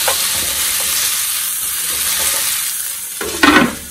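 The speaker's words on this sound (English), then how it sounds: "So now I'm just going to add in our apples. Let them start softening just a little bit." Apples sizzling in a hot pan while being stirred, a bright steady frying hiss with soft scraping, ending in a louder burst of sizzle and utensil contact near the close.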